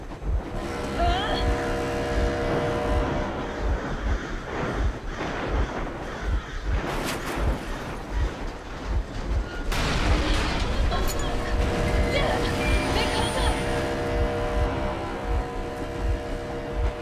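Train engine rumbling on steadily in Metro Exodus, a regular low rhythmic chugging pulse under mechanical hum, with sharper bursts and a swelling rush partway through.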